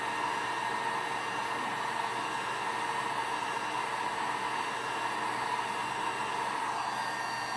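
A heat gun blows constantly while warming heat transfer vinyl on a stainless steel tumbler, giving a steady, close, even rushing hiss with no breaks.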